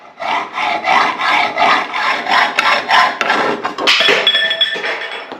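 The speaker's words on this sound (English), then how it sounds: "since we cut that with a hacksaw" A hacksaw cuts through a metal closet rod in a run of close, rhythmic rasping strokes, about two per second, ending with a metallic ring as the blade finishes.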